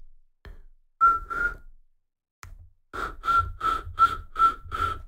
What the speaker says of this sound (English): We are now doing a pucker whistle with our lip and our tongue.